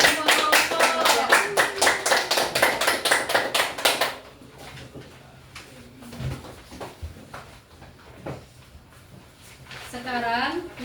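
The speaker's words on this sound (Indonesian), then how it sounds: "Tepuk tangan untuk semua kelompok." Schoolchildren in an elementary classroom clap together for all the groups in a fast, loud burst of rhythmic claps lasting about four seconds. Quieter room noise and scattered speaking voices follow.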